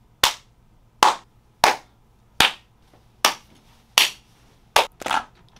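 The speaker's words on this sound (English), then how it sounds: "I need to record some live claps" Live hand claps recorded one at a time for a drum kit, eight sharp, close claps spaced roughly evenly, the last two coming in quick succession, with quiet room tone between them.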